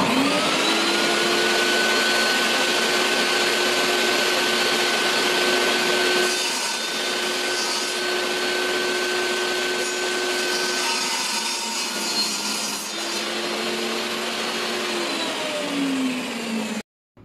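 A power saw whines steadily through a wooden board, cutting the sides of a small cosmetics organizer; the motor tone holds loud and continuous for most of the run, dips slightly midway, then cuts off abruptly at the end.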